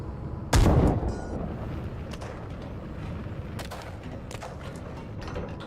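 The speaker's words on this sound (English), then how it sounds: "Yep, ammo detonation." Tank ammunition cooking off and detonating in the GHPC (Gunner Heat PC) game, a heavy blast near the start followed by lingering crackle and scattered sharp pops fading under a low rumble.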